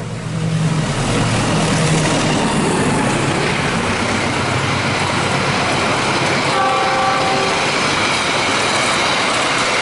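The Malabar passenger train speeds through Cimekar station on track 2, a loud, close, continuous roar of wheels and carriages rushing past, with a brief horn tone near the end.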